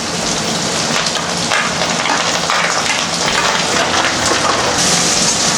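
Chopped onions and green chillies hit hot oil already tempered with dried red chilli, giving a dense, continuous crackling sizzle close to the pan, with no one speaking.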